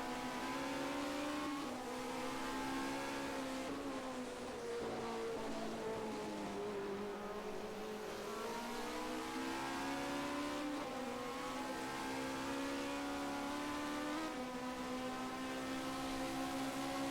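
Engines of 1979 Formula 1 cars, a Ligier and a Ferrari, drone continuously at Interlagos, pitch rising and falling through gear changes with a steady, dense roar and no voices.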